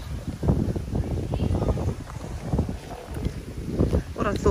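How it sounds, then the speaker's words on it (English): Strong wind buffets the microphone on a beach at Mamora Bay, Antigua, a rough, gusty rumble that rises and falls throughout while a person talks underneath. "So I've got a bit of wind, and I don't know if you're going to be picking that up"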